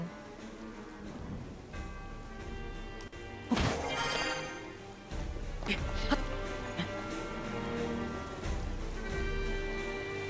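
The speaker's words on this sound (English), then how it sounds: "Does it rain all the time here or just on certain levels?" Rain falls steadily in the Vampire Survivors game, with sharp crashing impacts and a bell-like tone cutting through, and a person speaks over parts of it.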